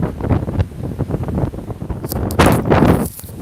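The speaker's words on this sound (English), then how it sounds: "It is very windy." Strong gusty wind blusters across the microphone beside the Brisbane River at Newstead, buffeting unevenly in loud rushes that swell near the end, with no voices.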